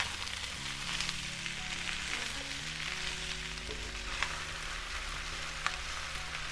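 Potatoes, onions and corn sizzle in a skillet for a BBQ chicken dinner, a steady close crackling hiss with an occasional sharper pop and a low tonal hum beneath.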